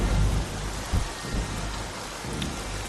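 Rain and thunder in a movie scene: a heavy, steady downpour hisses throughout while low rumbles of thunder swell and fade, with a couple of stronger booms.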